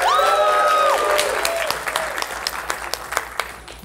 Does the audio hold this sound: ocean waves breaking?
no